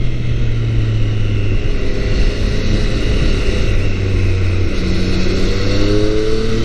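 Triumph Thruxton 765cc motorcycle, about 130 horsepower, riding a fast mountain pass on Japan's Tsubaki Line: a steady engine drone rising and falling in pitch with throttle, heavily mixed with wind rush, no voices.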